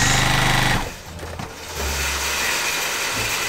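A sewing machine runs a large basting stitch to attach a leader to a quilt, giving a close, steady mechanical whir with a rapid rhythmic chatter that drops to a lower motor hum partway through, with no talking.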